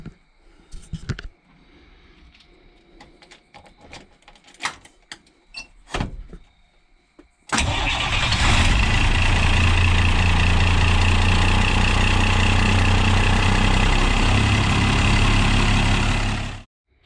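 A diesel engine in a converted school bus toy hauler, set up to run on black diesel, cranks and catches after a few clicks and knocks, then idles with a loud, steady, close rumble until it cuts off.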